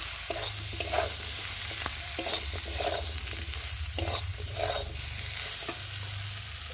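Turmeric, chilli powder, salt and green chillies being stirred in a hot pan, with a steady sizzle broken by repeated scraping strokes of a spatula, close and fairly loud, with no voices.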